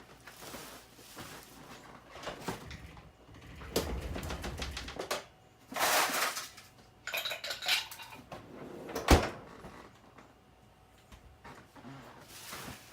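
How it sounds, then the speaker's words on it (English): Ice cubes clink and clatter into a glass of sangria in a series of sharp, bright knocks, with louder bursts near the middle and one hard crack toward the end, against a quiet kitchen background. "Throw some ice cubes in there."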